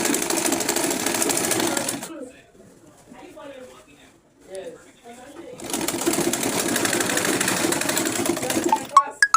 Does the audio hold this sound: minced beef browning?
no